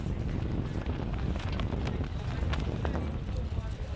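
Wind gusts across an outdoor canoe and kayak regatta course at the Canada Games, a constant low rumbling buffet on the microphone with faint voices and thumps underneath.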